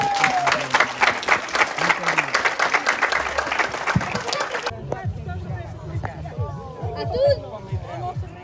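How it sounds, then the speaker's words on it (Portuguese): An audience applauds after a performance, brisk clapping for about five seconds that cuts off abruptly, followed by outdoor talk and ambient sound. "merece uma salva de palmas"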